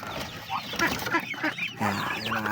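Newly hatched chicks and other poultry peep, cluck and honk in a busy cluster close to the microphone, with overlapping short calls and a voice speaking briefly among them.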